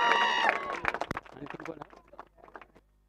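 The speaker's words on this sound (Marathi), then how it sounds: "टाळ्या छान वाजवताय तुम्ही" An audience claps at a cricket tournament prize-distribution ceremony; scattered, irregular claps follow a voice at the start and thin out toward the end.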